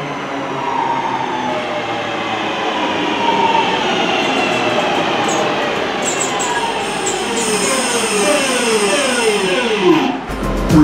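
A British Rail Class 323 electric train runs loudly at speed on Birmingham's Cross City line, with steady rumbling, rising and falling motor whine, and a clunk near the end.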